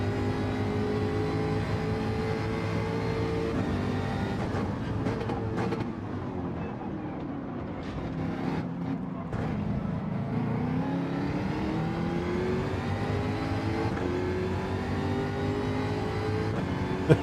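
A race car's engine in Gran Turismo 7 accelerating hard and shifting through gears, its pitch climbing, dipping and climbing again, loud and steady with no talking.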